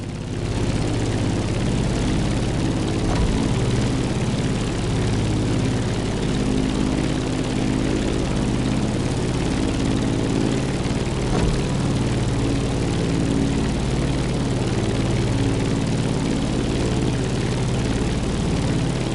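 A propeller airplane engine drones steadily and loudly while climbing in The Crew Motorfest racing game, a continuous low rumble with no talking.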